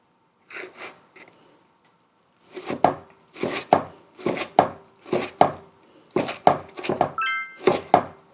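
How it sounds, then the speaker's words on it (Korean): Napa cabbage kimchi, its filling shaken off, is sliced lengthwise with a knife on a cutting board for mung bean pancakes: a few soft taps, a pause, then about a dozen sharp, close, steady chops. "이렇게 길게 세로로 좀 이렇게 썰어 주시고요."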